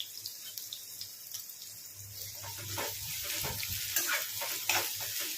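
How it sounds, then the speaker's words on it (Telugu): Chopped onions frying in a pan for rajma curry, giving a steady close sizzle with scraping and stirring that builds slightly louder over a few seconds, with no talking. "ఉల్లిపాయలు అయితే మంచిగా ఫ్రై కానివ్వండి."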